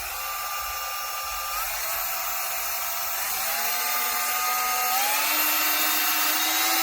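A Dremel 8240 cordless rotary tool runs at slow speed with a quiet, steady whine that rises in pitch a couple of times as the speed is nudged up.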